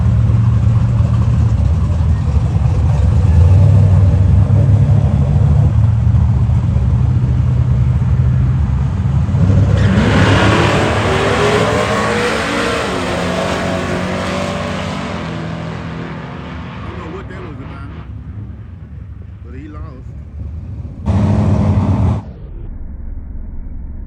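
Chevy S10 pickups at a drag strip truck event rumble loudly, then one engine revs hard and roars off, fading into the distance as the crowd noise continues, with a brief louder burst near the end.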